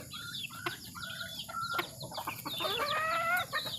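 Wild junglefowl (labuyo) chickens clucking, a busy cluster of overlapping clucks and chirpy calls from several birds close by, continuing steadily with no talk.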